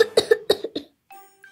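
A cartoon character fakes a sick cough in a Korean children's animation, five quick rough coughs in a row, followed by a soft tinkling chime.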